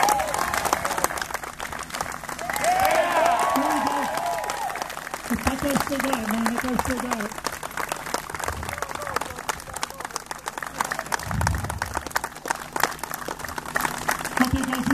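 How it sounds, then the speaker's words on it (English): A crowd applauds at a softball opening ceremony. The clapping is moderate and sustained, with a voice heard over it. "Let's give Joe a round of applause, guys"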